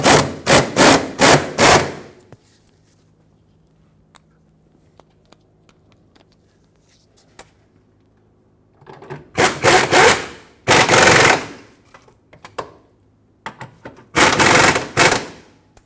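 Front fuel tank bolts on a 2000-2005 Ford Excursion are driven in with a power impact tool, heard as several loud, close bursts of rapid hammering rattle separated by quiet pauses.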